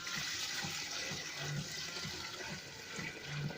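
Water pours steadily into a cooking pot for a homemade ginger and apple drink, a continuous close rushing splash with no talking.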